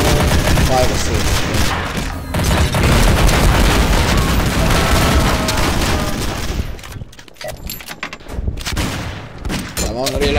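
Rapid gunfire fills the Garry's Mod zombie survival game, dense bursts of shots and booms overlapping almost continuously, loud and close, easing off near the end with a short gap.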